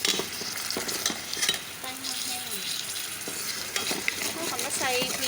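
Green curry paste stirred into chicken, meatballs and coconut milk in a pot, a steady sizzling bubble with the scrape of a spoon, continuous and close, no talk.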